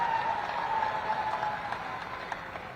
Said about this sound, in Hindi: तालियों की गड़गड़ाहट से उनका अभिनंदन और स्वागत करने का काम करेंगे, जोरदार तालियों से